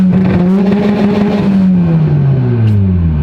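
A Mitsubishi Lancer Evo with a 2.4L engine and a Precision 6466 turbo launches on a straight pull, its engine loud and close, droning and then rising and shifting in pitch.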